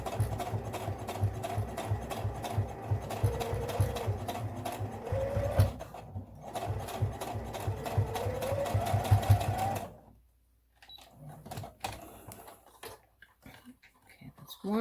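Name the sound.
sewing machine stitching thick fabric for a face mask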